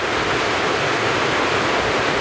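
A river rushes along beside a hiking trail in a steady, dense broadband wash of flowing water, close and loud, with no voices over it.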